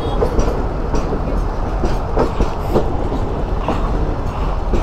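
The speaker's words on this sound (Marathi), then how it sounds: "अरे बापरे, अजून एक ट्रेन आली" A train rolls past at Sawantwadi Road on a Mumbai route, loud and close, with a continuous heavy rumble and rhythmic clickety-clack of wheels over rail joints, no voices.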